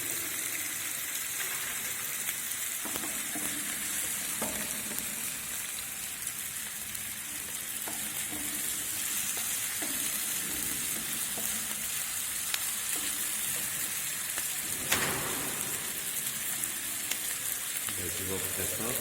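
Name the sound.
diced onions frying and stirred in a pan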